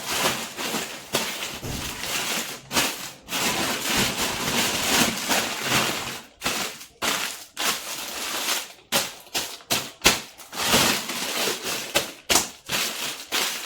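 Finger millet (nachni) dough being kneaded by hand for papad, a steady run of soft squishing, slapping and pressing noises close up, with brief pauses between strokes and no talking.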